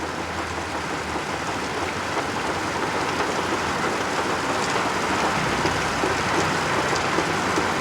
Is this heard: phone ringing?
no